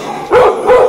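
A dog at an obedience training session gives two quick, loud barks close by, spaced about a third of a second apart, with no talk over them.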